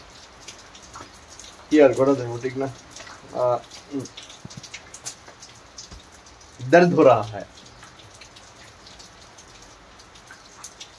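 Steady rain falling and pattering on a surface nearby, a constant soft hiss with a few brief bursts of talk over it.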